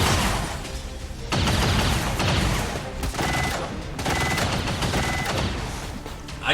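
Rapid gunfire bursts from the XCOM 2 video game, dense volleys of shots rolling in loud waves with brief gaps between them, continuous and close across the whole stretch.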